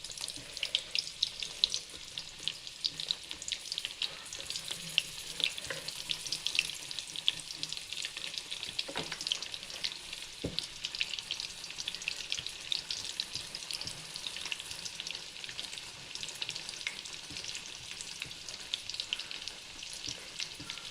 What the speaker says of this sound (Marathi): कारले आपण तेलामध्ये फ्राय करून घ्यायचे आहेत